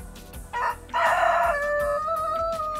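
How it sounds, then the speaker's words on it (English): A rooster crows close by in one loud, drawn-out call lasting about two seconds, preceded by a brief clucking burst. "The rooster being annoying?"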